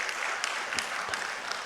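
A church congregation claps together in a warm, steady round of applause, many hands blending into a dense patter with a few sharper individual claps standing out, heard from within the room.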